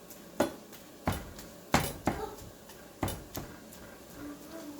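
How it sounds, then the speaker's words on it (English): A spatula scrapes and knocks against a pan while ground meat for a tater tot casserole is stirred and broken up, giving sharp irregular clacks every second or so over a quiet background with no talking. "I can mix up stir up the meat and get it all broken up into nice pieces"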